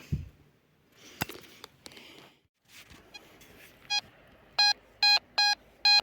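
A Megatron M metal detector gives electronic tones while digging in a field, faint scattered clicks and handling noise followed by several sharp, evenly spaced beeps near the end.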